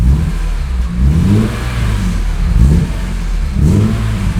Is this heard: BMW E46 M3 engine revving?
yes